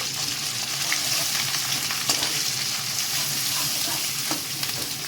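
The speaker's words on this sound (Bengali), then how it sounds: "এখন এই নারকেল, আদা এবং কাজু বাদামটা আমি একটুখানি সাঁতলে নিই" Coconut, ginger and cashew paste sautéing in mustard oil, giving a dense, continuous close sizzle with occasional soft stirring scrapes, no voices.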